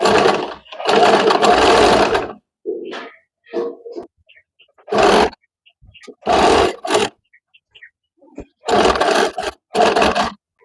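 A sewing machine stitches tucks in fabric in several short bursts of a second or two, separated by quiet pauses, close and fairly loud.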